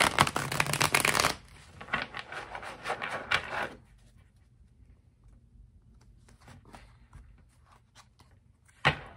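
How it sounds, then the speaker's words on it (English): Crisp riffling of a fresh deck of cards being shuffled, a loud burst at the start followed by softer ruffles and a final snap at the end. "Two more shuffles, and then we can get started."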